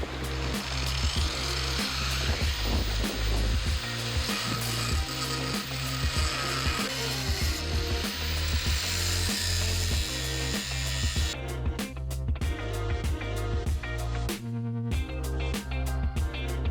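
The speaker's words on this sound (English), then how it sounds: "to use his favorite tool, the angle grinder" An angle grinder cutting steel rebar on a concrete slab building site in France, a loud sustained grinding whine with rhythmic pulsing chatter that runs the whole time and shifts in tone partway through; no voices.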